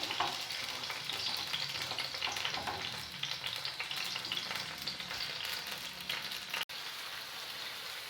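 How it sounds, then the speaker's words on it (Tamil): Jaggery dissolving in a cup of simmering water in a pan while being stirred for tamarind candy: a steady, dense bubbling sizzle with faint scraping, continuous and close throughout, with no talking. "வெல்லம் நல்லா கரையட்டும்."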